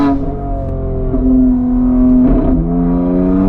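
A 710hp BMW X3M pulling away onto the Nürburgring, its engine a loud, close, steady roar heard from inside the car, with pitch shifting slightly through a gear change.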